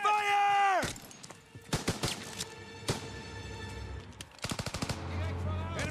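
Machine gun fire in the Call of Duty WWII video game, with rapid clusters of sharp shots in quick bursts after a sustained tone fades, loud and close, separated by short pauses.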